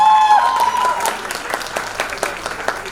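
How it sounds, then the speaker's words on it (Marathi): An audience bursts into applause for a lavani performer at an indoor gathering, strong clapping at first that thins into scattered claps over a few seconds, with a brief tonal whine at the start. "जरा जोरदार टाळ्या."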